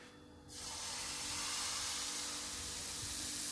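Crepe batter poured into a hot, lightly oiled pan bursts into a sudden, steady sizzling hiss that holds close and even after a quiet start.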